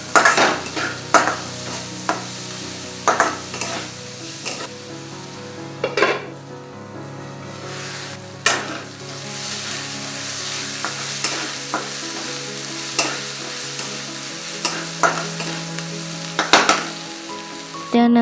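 Chopped garlic, ginger and onion fry in a pan for dhaba-style dahi bhindi, a continuous close sizzle broken by repeated clanks and scrapes of a spatula stirring against the metal, loud and steady with no voices.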